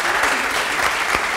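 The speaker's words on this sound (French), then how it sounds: "Merci, on peut les applaudir, s'il vous plaît." Audience applause at a pre-game NBA fan evening for a Wolves versus Warriors watch party, a steady dense wash of clapping from a crowd filling the short stretch, loud and close with no talk over it.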